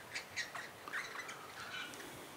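A magpie at a bird feeder gives a string of faint, scratchy squawks and chattering calls in quick bursts, distant and quiet with no talk.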